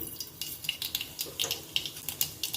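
Mustard seeds hit hot oil for a Maharashtrian tempering and pop in quick, sharp crackles over a soft sizzle, close and fairly faint.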